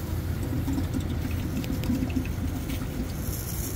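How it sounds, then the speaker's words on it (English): A vacuum drain pinch valve opens and sucks water out of a discharge line, giving a steady gurgling, rushing flow of liquid that stays even and close throughout, with no talk. "I activated that pinch valve. And as you can see, it sucks all that water right out."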